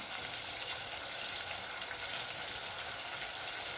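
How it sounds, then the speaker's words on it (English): Ginger-garlic beef, about three quarters of a kilo, sizzles and fries in oil in a pot as it is stirred, a steady close crackling hiss with no talk. "So I'll give it a bit of a stir."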